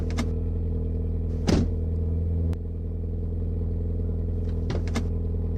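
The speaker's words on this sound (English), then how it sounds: "We're back to the car. Here. I got it running." A car engine idles with a steady low rumble, a few faint clicks and knocks on top, no voices.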